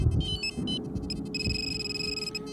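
A metal detector gives a signal over a shallow find in Ukraine, the back of an ancient fibula, heard as bright, steady electronic tones that start and stop and then hold, over low rumbling from handling and digging.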